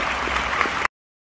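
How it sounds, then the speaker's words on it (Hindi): Applause filling a hall, a dense continuous wash of clapping that holds steady and then cuts off abruptly after less than a second. "पूरा हॉल तालियों की आवाज से गूंज रहा था"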